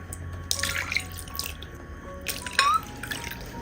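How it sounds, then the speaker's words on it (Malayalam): Water pours into a bowl of hot cooked tomatoes in a home kitchen, with a few splashing bursts and drips over a low background hum; no speech. "ബൗളിലേക്ക് മാറ്റിയ തക്കാളിയിലേക്ക് 3 കപ്പ് വെള്ളം വീണ്ടും ഒഴിച്ചു കൊടുക്കാം"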